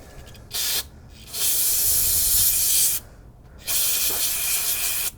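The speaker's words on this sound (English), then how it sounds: "So we just need to spray this out and it should evaporate fairly quickly." Two bursts of aerosol spray into a Jeep fuel line, a short puff then two longer hissing blasts, close and loud with brief quiet gaps between.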